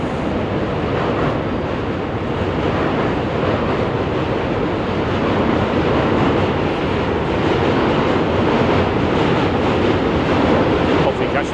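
Subway cars rumble across the Manhattan Bridge as a dense, continuous roar of wheels and steel, loud and unbroken, with city wind and ambient noise mixed in.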